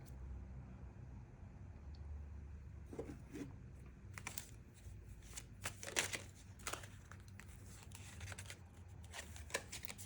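Tarot cards shuffled and pulled from a deck, quiet irregular shuffling and flicking snaps heard close, with no talking.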